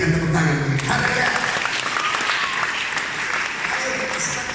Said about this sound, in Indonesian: Berikan tepuk tangan bagi Haleluya.